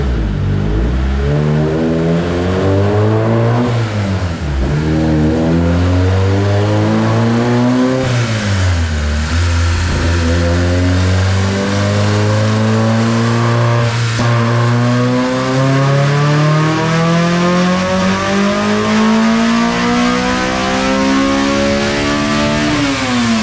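A Honda K-series engine swapped into a Mazda Miata revs hard on a dyno, its loud, continuous tone climbing through repeated pulls with dips between them, then sweeping steadily upward to high rpm through the VTEC crossover.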